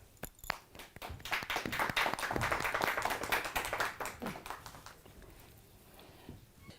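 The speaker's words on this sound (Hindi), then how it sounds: "प्लीज़ तालियों के साथ उनका स्वागत कीजिए" An audience claps to welcome a speaker onto a stage at a business seminar. Scattered sharp claps quickly swell into steady applause, then fade out with a few faint claps, heard alone without talk.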